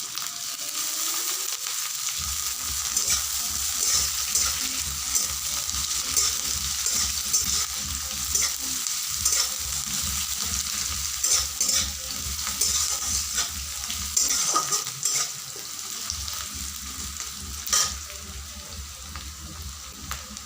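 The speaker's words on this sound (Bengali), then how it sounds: "হালকা ভাজা হয়ে এলে আমি দিয়ে দিব টমেটো কুচি।" Chopped garlic sizzles steadily in a hot pan for an egg curry, with repeated scraping strokes of a spatula stirring it, close and continuous, no voices.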